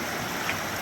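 A river swollen with floodwater at a campsite hiking trail rushes in a continuous broadband wash, loud and steady for under a second, with no voices.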